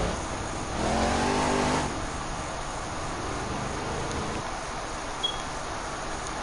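A 2005–2007 Hot Wheels monster truck engine in the Monster's Revenge video game revs up in one loud surge for about a second, then settles into a steady, lower idle hum with no talking.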